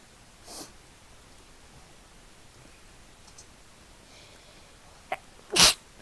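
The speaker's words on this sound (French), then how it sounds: "j'éternue" One sharp, loud sneeze bursts out near the end after a quieter sniff, set against faint steady background hiss during a Fortnite game, with no talking.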